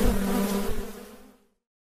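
Kozköy bees, a local hybrid of the Caucasian honeybee, buzz steadily in a close, continuous drone that fades out near the end, with no voices.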